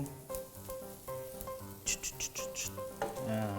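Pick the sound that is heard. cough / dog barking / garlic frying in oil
garlic frying in oil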